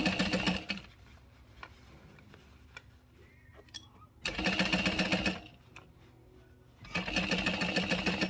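A sewing machine stitches a garment seam in three short runs, each a fast, close mechanical whirring chatter, with quieter pauses between them filled with faint handling noises.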